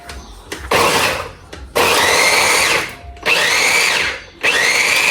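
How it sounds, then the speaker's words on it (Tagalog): A food processor chopping carrots, garlic, onion, bell pepper and celery whirs loudly in repeated bursts of about a second, separated by short pauses, close and alone. "Ayan po at ipo-food processor po natin itong mga ricado."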